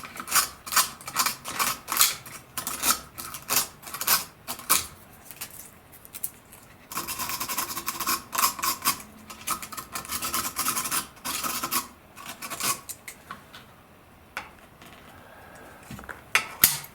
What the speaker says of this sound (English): I'm going to grab this push rod and just scuff it up